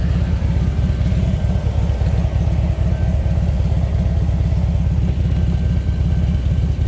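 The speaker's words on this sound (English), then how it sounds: "hopefully you can still hear me over the blower" A blower runs continuously in a motorcycle garage, a loud, steady droning rumble with a fast low pulsing throb and a broad airy hiss on top, close by and unbroken.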